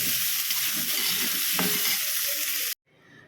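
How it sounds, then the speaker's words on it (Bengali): Steady, loud sizzling of cauliflower frying in a pan, with a brief stirring scrape partway through, cutting off abruptly near the end. "এখানে ফুলকপিটা একটু নুন দিয়ে ভেজে নিচ্ছি"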